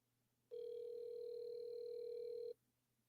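A telephone ringback tone on an outgoing call, one steady two-second ring standing alone over quiet line hiss.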